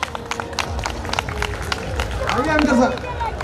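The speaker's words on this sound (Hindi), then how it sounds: "वहाँ जो वाइल्ड ऑडियंस है, बिल्कुल आप लोगों के लिए भी जोरदार ताली" A lively crowd at a comedy night during a Diwali fair applauds and cheers in a busy, continuous wash of claps, with voices and shouts rising toward the end.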